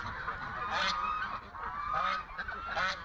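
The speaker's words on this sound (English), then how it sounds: "there's a Chinese goose that lost her leg bands" A Chinese goose honks in repeated harsh, nasal calls at close range, alone with no talk, over a steady farmyard background hum.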